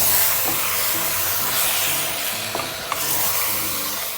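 Diced beef being stirred in a hot frying pan for a Kerala-style beef roast, a steady close sizzle with scraping stirs and a few soft clicks of the spoon against the pan.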